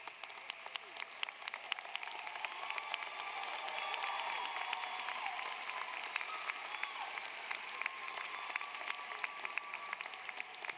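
Sustained audience applause fills a nursing school convocation hall at the University of Washington, a steady dense clapping that swells slightly midway and carries on throughout without speech.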